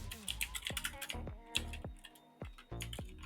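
Keys on a computer keyboard are struck in a quick, close, irregular burst of clicks and taps, heard alone for a few seconds.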